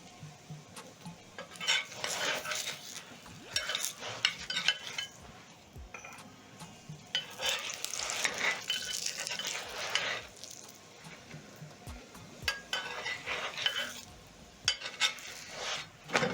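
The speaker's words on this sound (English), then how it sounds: "Move the chapatis around. Add some more cooking oil on top of the chapati." Chapatis frying in cooking oil in a pan, a steady sizzle broken by repeated clinks and scrapes as the flatbreads are moved around and oil is added on top, with no talking.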